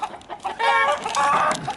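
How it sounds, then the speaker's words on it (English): A rooster clucks and calls loudly up close, a few throaty bursts with a longer drawn-out cluck in the middle, no talking. "Look at that, little rooster got out."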